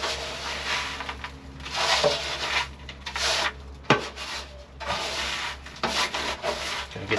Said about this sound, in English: Alright, got to scrub this thing up now.